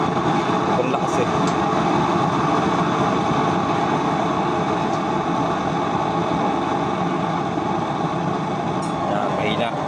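A homemade DIY cooking stove burner roars with a steady, dense, broadband rush of flame, constant and close throughout.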